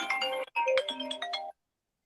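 A mobile phone ringtone plays a bright electronic melody of quick tones for about a second and a half, then cuts off abruptly, with no voices over it.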